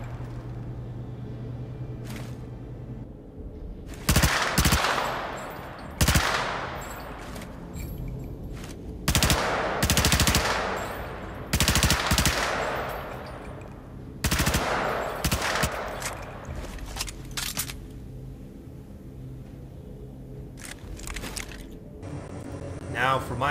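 A ballistic rifle fires in bursts of automatic gunfire in the Star Citizen video game, loud rapid volleys repeating at intervals with quieter gaps, while someone talks over parts of it.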